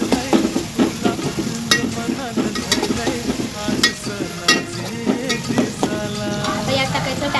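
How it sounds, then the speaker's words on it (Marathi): Onion, garlic and ginger paste frying in a pan while being stirred for a prawn curry, with a constant sizzle and frequent rhythmic scraping and clinking of the spoon against the pan, close and fairly loud. "मिक्स करून घ्यायचं."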